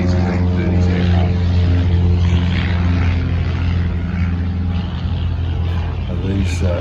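Classic 1920s–1930s de Havilland propeller aircraft fly past at an airshow, a loud, continuous droning engine roar with strong low hum filling the whole stretch, no talk over it.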